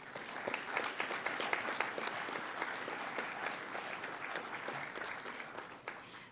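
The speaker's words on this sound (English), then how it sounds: "Please make a round of applause." An audience at a high school awards ceremony claps steadily, a dense, even round of applause heard from some distance at low volume.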